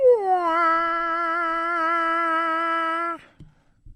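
A dog lets out one long, steady howl lasting about three seconds, rising slightly at the start and then holding a wavering tone before it breaks off abruptly, with a short faint whimper just after.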